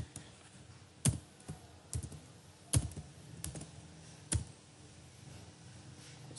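Sparse, quiet keystrokes on a computer keyboard as a YouTube channel name is typed, a handful of separate clicks spread irregularly with a few sharper taps standing out.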